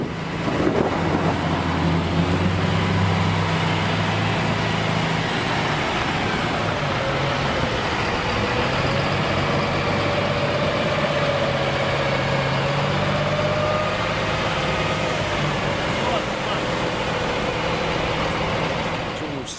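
A KAMAZ truck engine idles while the truck maneuvers, a loud, steady low diesel rumble with a slight rise and fall in pitch as it runs close by for the whole stretch.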